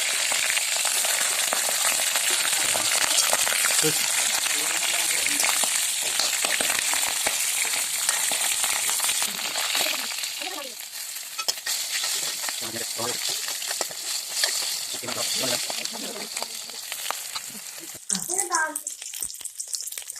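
Broiler chicken legs frying in hot oil in a wok, a steady close sizzle with occasional clinks and stirring, and a voice talking over it in the later part.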